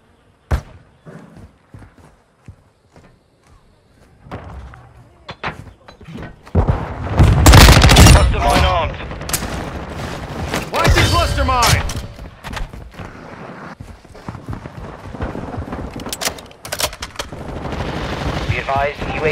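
Bursts of automatic gunfire and heavy impacts in a Modern Warfare II Domination match, sporadic shots at first, then a dense loud barrage from the middle onward, with in-game radio voices calling out between the shots.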